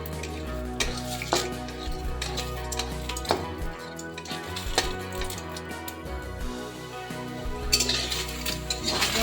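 Chopped tomatoes cooking in a dry pan without oil for a vegetarian paneer dish, with clattering utensil scrapes, stirring and a steady low sizzle filling the kitchen, fairly loud and continuous with no talking.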